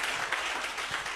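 A church congregation claps at a Friday miracles and prophecy service, a dense, steady wash of applause filling a short moment without a break.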